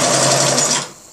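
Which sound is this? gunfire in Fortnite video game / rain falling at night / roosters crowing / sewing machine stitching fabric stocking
sewing machine stitching fabric stocking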